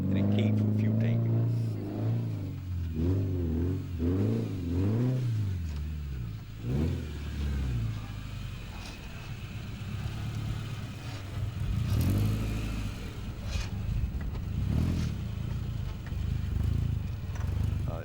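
An old 4x4 trials truck at a Whanganui trials round revs its engine repeatedly in rising and falling pulls, fairly close, with people talking over the engine throughout.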